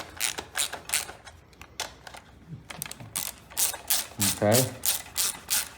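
A ratchet snugs bolts onto the manifold of a Honda pressure washer in quick bursts of close, dry clicking, separated by short pauses, with one brief spoken word.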